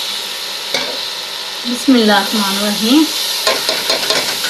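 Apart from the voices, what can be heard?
washed fenugreek leaves added to frying masala, sizzling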